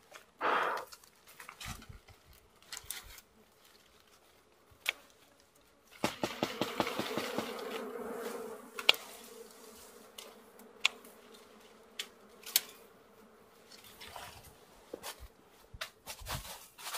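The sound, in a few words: dwarf honey bees buzzing at their nest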